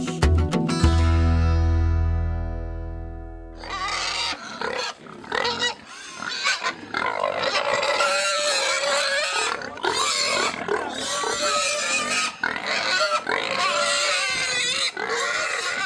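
Pigs on a pig farm grunting and squealing loudly and continuously, a dense crowd of animals close by, following a short opening music sting.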